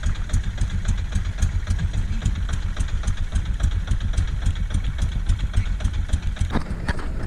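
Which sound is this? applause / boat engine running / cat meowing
boat engine running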